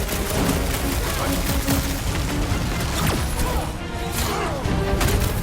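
Rapid gunfire and impacts in the PS5 game Marvel's Guardians of the Galaxy form dense, continuous bursts of shots and crashes, with combat chatter and effects layered throughout.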